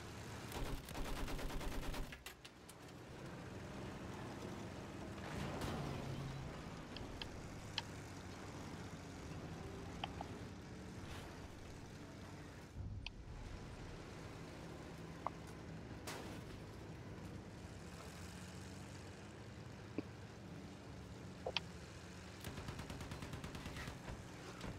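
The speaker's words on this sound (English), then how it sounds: "We are actually driving this tank right now" A tank rumbles along during Battlefield 1 gameplay, its low engine drone steady under scattered distant gunfire and sharp isolated shots, fairly quiet overall with no talking.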